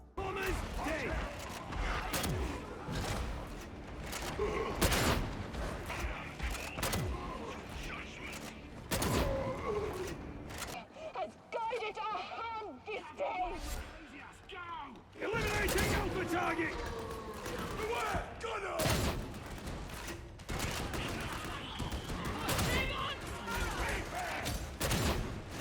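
Weapon fire in Warhammer 40k: Darktide on Damnation difficulty, with repeated sharp shots and bursts of gunfire over clashing, mechanical game sounds, continuing loudly through most of the stretch with brief lulls.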